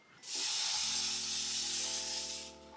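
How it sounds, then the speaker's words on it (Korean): Hair spray from an aerosol can hisses in one steady burst of about two seconds while setting a styled hairdo, loud and close, with a faint tonal hum underneath. "그다음엔 다시 스프레이로 고정을 해주고요."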